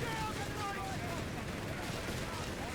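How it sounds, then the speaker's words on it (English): Heavy machine gun fire in Company of Heroes 3 rattles continuously as a dense, distant-sounding barrage within busy battle noise. "Heavy machine gun helping out from afar."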